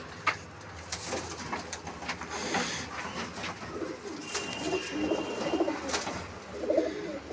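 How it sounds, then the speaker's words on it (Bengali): Pigeons coo in soft repeated low calls close by, mixed with light flutters and scattered background noises, no talking. "এটা চকির পায়রা আছে, কালো দানা চকির পায়রা আছে।"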